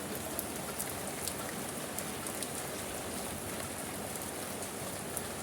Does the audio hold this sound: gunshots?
no